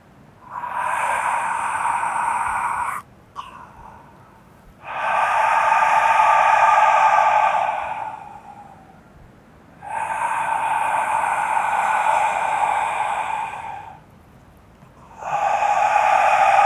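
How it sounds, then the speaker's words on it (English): Ujjayi pranayama breathing through a wide-open mouth: long, loud, airy rushing breaths in and out, each lasting about four to five seconds with short pauses between, and no talking. "I want to stimulate the sound of the Ujjayi breathing"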